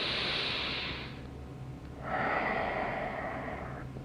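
Slow, deliberate nasal breaths during a Pilates breathing exercise, a long airy inhale, a brief pause, then another drawn-out breath, close and clear with no talk.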